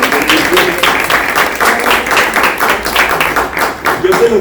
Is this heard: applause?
yes